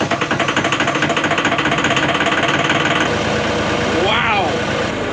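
A tractor engine idles roughly just after a hard start in freezing cold, with a loud, steady knocking chug that smooths out slightly partway through.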